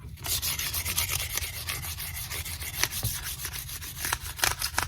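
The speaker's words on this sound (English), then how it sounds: "sandpaper" Sandpaper rubs back and forth along a hand-carved wooden guitar neck in a steady rasping rhythm of close, repeated strokes, with no talking.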